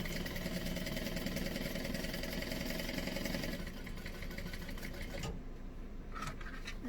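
Sewing machine stitching a tote bag, a continuous fast whirring mechanical run that pauses briefly around a pivot and then resumes, loud and close with no talk.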